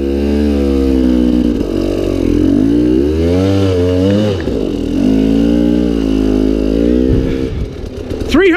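A vehicle engine revs loudly and steadily after being put in gear, a close, continuous droning roar that rises and falls in pitch before tailing off at the end.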